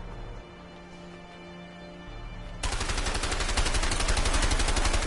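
Gunfire in the video game A Way Out: a low droning game background gives way to a loud, sustained stream of rapid automatic shots that continues steadily to the end, with no talking.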